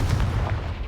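In the Hogwarts Legacy video game, the Confringo spell sets off an explosion heard as a short, loud, booming burst of deep low rumble under less than a second of noise.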